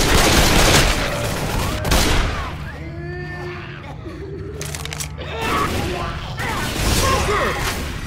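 Gunfire rattles in the Left 4 Dead 2 game as a dense, noisy fusillade of shots with crashes and mechanical clatter, and voices are heard partway through.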